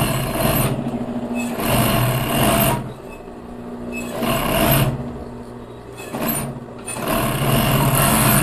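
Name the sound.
sewing machine stitching ribbed knit fabric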